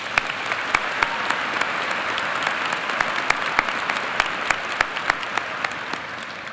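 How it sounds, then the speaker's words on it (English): A crowd at the 2019 Carlson School undergraduate commencement claps steadily, a broad wash of applause with sharper individual claps standing out and no talk over it. "Please join me in thanking them with a round of applause"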